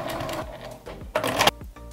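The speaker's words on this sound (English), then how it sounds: "And I'm going to top stitch all the way across." Sewing machine top stitching across a fabric pouch, close and fairly loud, running in short mechanical bursts of rapid rhythmic needle thumps separated by brief pauses.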